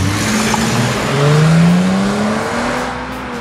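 A 2018 Dodge Challenger GT V6 engine revs hard, its pitch climbing steadily as it accelerates, loud and close throughout.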